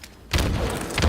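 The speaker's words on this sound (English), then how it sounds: "Well placed grenade." Grenade blast in a live-streamed tournament video game, a dull low thud landing abruptly after near silence, followed by a sustained rumble and a second thump about a second later.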